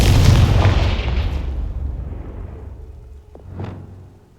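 Confringo spell cast in Hogwarts Legacy, a single loud, close explosion with a heavy booming burst that rumbles and fades over a few seconds, followed by a faint smaller pop.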